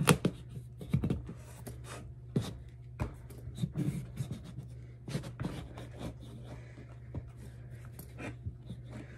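A knife cuts through a fresh farm pumpkin in a kitchen, giving a run of close, crisp crunches, scrapes and taps in irregular bursts.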